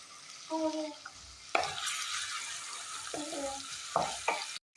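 Ginger garlic paste dropped into hot oil with cumin seeds for besan bhurji, sputtering into a sizzle with a few stirring scrapes and clinks, moderately quiet, with a brief cutoff right at the end.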